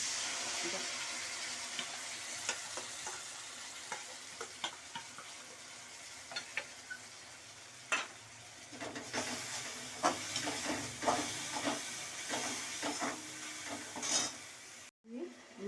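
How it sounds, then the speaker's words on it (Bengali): Spice paste for a Bengali lentil-fritter curry sizzles in a pan after a splash of water, a steady frying hiss broken by repeated spatula scrapes and stirring knocks, close and without voices. "মশলা বাটিটা ধুয়ে অল্প একটু জল দিয়ে দিলাম, মশলাটা কষতে সুবিধা হবে।"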